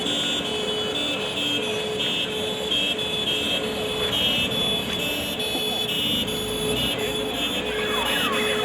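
A wailing emergency siren rises and falls continuously over dense traffic and street noise, loud and sustained throughout.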